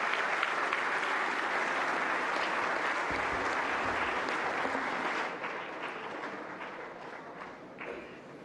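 Audience applause welcoming the President at the National Teachers Award 2024 ceremony, a dense, sustained clapping from a large crowd that eases slightly toward the end.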